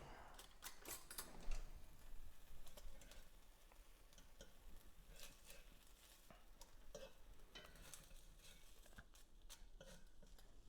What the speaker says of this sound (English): Starting to hear that bacon over there.